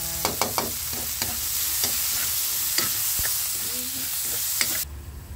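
Food sautéing in a pan for a home-cooked Filipino dish with fish, a continuous sizzle punctuated by several clicking stirs and scrapes, close by, before cutting abruptly near the end.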